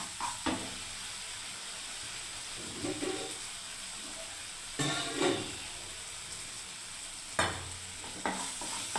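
Almond and mustard paste gravy for a vegetable dish fries in a pan as its oil separates, giving a steady soft sizzle with occasional louder bursts and spoon stirring scrapes.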